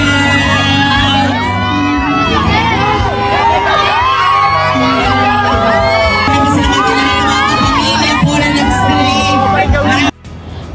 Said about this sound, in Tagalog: Habang hindi pa rin matigil ang hiyawan ng mga tao.